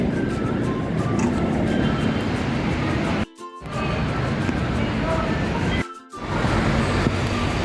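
Steady rumbling of a light rail train rolling along the tracks near LRT Quirino Station, Manila, with two brief drops where the noise cuts out, and faint voices beneath.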